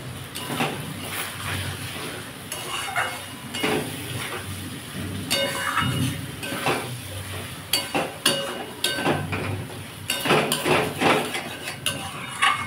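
A potato and parwal curry with cashews is stirred in a pan. Irregular scraping and clinking of a utensil against the metal repeat over a soft sizzle, with no voices.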